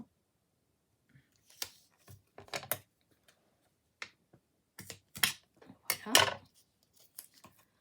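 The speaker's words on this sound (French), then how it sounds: "Alors, les ciseaux." Scissors snipping through card stock and 3D foam tape during handmade card making, several short crisp cuts in bursts with pauses, close by, while someone speaks briefly in French.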